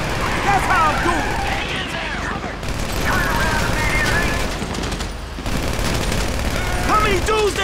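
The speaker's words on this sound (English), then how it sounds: "Listen to the shooting." Bursts of automatic gunfire from a Grand Theft Auto V mission shootout crackle and rattle almost continuously, loud and dense, with short lulls and game characters' shouting mixed in.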